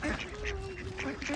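Ducks and geese being fed let out a cluster of nearby quacks and honks, along with a short whistling call, over outdoor background noise.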